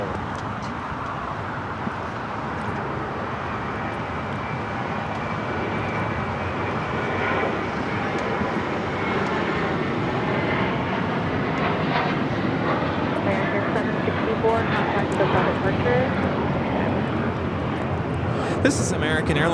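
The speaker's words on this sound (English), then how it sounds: "This is American Airlines 764 taking off to Puerto Vallarta on the A321." An American Airlines A321 takes off from a runway at LAX bound for Puerto Vallarta, its engines building to a steady, loud roar that holds throughout, with a voice talking over it.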